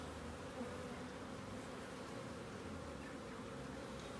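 A dense, steady hum of many honey bees buzzing up close on comb, a continuous low drone without pauses or voices.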